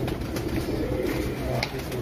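A racing pigeon at a tournament coos softly in short, low repeated notes against a steady outdoor background hum.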